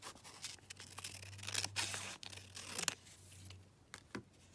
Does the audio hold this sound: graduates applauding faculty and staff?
no